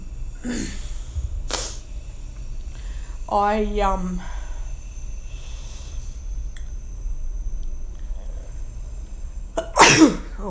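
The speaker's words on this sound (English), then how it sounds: "a sneeze came on then" A single person sneezes loudly and close up near the end of an otherwise quiet room, after a few soft sounds and a short voiced noise earlier.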